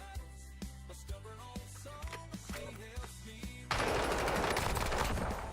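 Kilo assault rifle in Call of Duty on the firing range: a spaced series of single sharp shots over a low musical bed, then a sudden loud sustained burst of rapid automatic fire, no talking.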